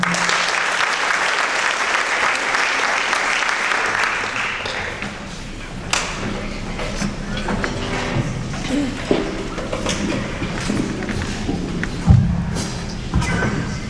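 Audience applause after a college jazz ensemble performance, a thick wash of clapping for several seconds that thins into scattered claps and room noise with a few thumps.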